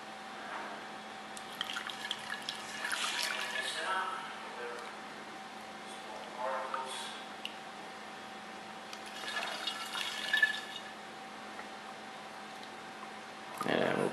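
Honey water for mead is ladled into a sanitized container in a few separate pours, soft trickling and dripping splashes at intervals over a steady background hum.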